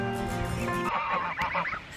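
Geese honk repeatedly and loudly, harsh nasal calls overlapping in a noisy cluster close by.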